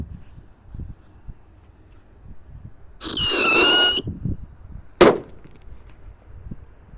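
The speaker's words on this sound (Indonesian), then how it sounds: "lanjut yang kita nyalakan di sini ada Rocket Pirotar" A Rocket Pirotar firework lit in a hole in the ground gives a loud, rising whistle lasting about a second, followed shortly by a sharp bang, with faint background noise before and after.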